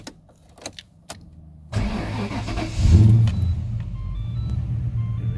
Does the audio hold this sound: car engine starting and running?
yes